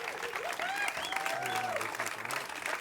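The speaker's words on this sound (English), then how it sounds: "can we get a huge round of applause for Khói Barbecue from Houston?" A round of applause from an audience for Khói Barbecue from Houston, moderately loud clapping with whistles and cheers over it, lasting a few seconds.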